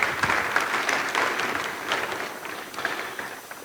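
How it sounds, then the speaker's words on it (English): An audience at the Afreximbank 2023 Annual Meetings claps steadily and warmly, a dense patter of hands sustained throughout without a pause. "A round of applause, please."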